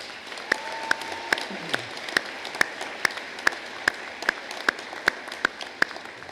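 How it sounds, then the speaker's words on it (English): Scattered audience applause for alumni at a community college graduation ceremony, sparse distinct claps in a steady rhythm over a quiet hall. "Let's give them a round of applause."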